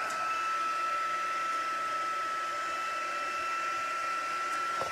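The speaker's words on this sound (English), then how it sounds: "I've got my heat tool and I'm going to turn it up to level 2" A heat tool set to its highest level blows steadily as it heats gold embossing powder, a constant whooshing hum with a high whine running under it, and no talking.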